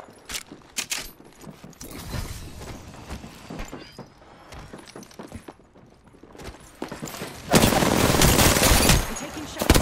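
Rapid gunfire from a battle in the video game Apex Legends, dense crackling shots scattered through the scene, building to a loud sustained volley near the end amid busy game effects and faint voices.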